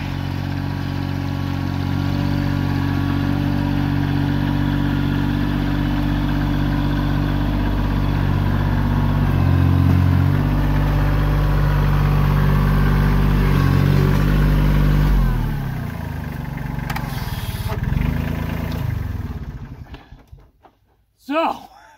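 A Kioti CK2610 compact tractor is stuck in mud, its diesel engine running loud and close with a steady low drone that shifts pitch as it works, then dies away near the end of the clip.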